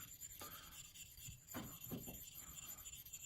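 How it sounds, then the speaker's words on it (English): A slurry stone is rubbed on a honing stone while honing a Solingen straight razor, giving faint, soft rasping strokes in a quiet room with no voices. "Take this slurry stone and build up a slurry."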